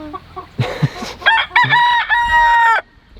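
Backyard chickens cluck in short bursts near a compost area, then a rooster lets out a loud, close drawn-out crow.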